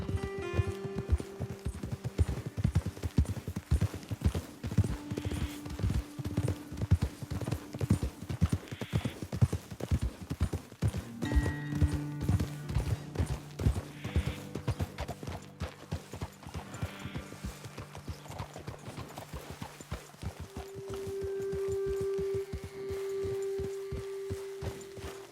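Horses ridden over rough ground in Red Dead Redemption 2 sound out with a steady, close clip-clop of hooves at a walking pace, over a low sustained music bed, with a faint whinny.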